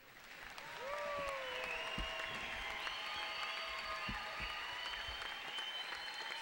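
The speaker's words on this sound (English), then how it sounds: "Let's give this graduates a big round of applause." Graduation audience at Salish Kootenai College's 2005 ceremony bursts into sustained applause in a large hall. The clapping is steady and dense, with whoops, shouts and voices from the crowd mixed in throughout.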